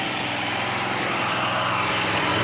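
A genset generator engine running under test, a steady loud close drone with a fast, even mechanical chug and no breaks, alone without speech.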